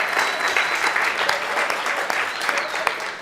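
Audience applause fills the room at a comedy or talk performance, a dense steady clatter of clapping hands that holds strong for a few seconds with no voice over it.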